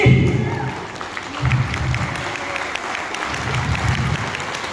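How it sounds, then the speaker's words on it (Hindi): A seminar audience claps in sustained applause, steady and full throughout, with a few louder swells and some voices mixed faintly into the clapping. "आप ताली बजानी पड़ेगी"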